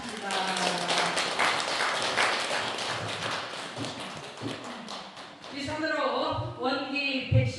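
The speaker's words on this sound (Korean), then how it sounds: "감사의 박수 올리겠습니다." Ceremony attendees at a Buddha's Birthday service give a round of thankful applause, dense rapid clapping for about five seconds that fades as a voice begins speaking over the last few claps.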